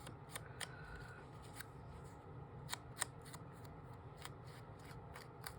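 Scissors snip around a printed digital stamp image for fussy cutting: a string of sharp, close clicks and snips at an irregular pace over a faint background hum.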